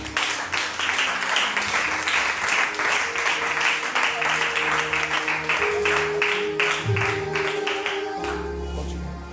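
A church congregation claps and cheers to acclaim Jesus during a Sunday service, sustained loud applause filling the room, with voices rising over it and the clapping thinning near the end.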